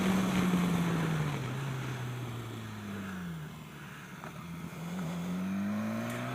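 A BMW S1000XR sport-touring motorcycle on a test ride, its engine pitch sliding down through a gear change and then climbing again, under steady wind rush from riding along the road.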